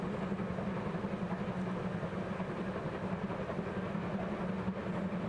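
A train rolls along in a point-and-click mystery game set in Central Asia in 1929, a steady low rumbling drone of wheels and carriage with faint rhythmic clatter, even and unbroken, no one speaking.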